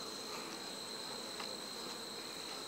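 Honeybees at an open hive during an inspection make a steady, close, high-pitched buzzing drone with no speech.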